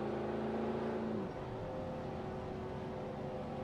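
Race car engine droning steadily in high gear in the V8 Thunder racing game, a loud continuous roar whose pitch dips slightly partway through and then holds level, with no voices.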